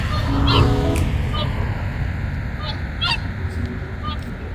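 Geese resting in a field in Skövde, Sweden honk repeatedly, a scattered chorus of nasal calls over steady outdoor noise, some close and others farther off.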